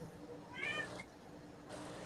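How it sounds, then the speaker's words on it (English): A single cat meow rises briefly over a low background hum in a quiet room, heard once and alone with no talk during it. "Cat said something."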